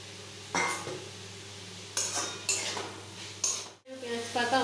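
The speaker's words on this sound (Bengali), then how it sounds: "পেঁয়াজ পাতা আমার ভালোভাবে ভাজা হয়ে গেছে" Spring onion greens frying in a pan for fried rice, with soft sizzling broken by several sharp scrapes and clinks of a spatula against the metal.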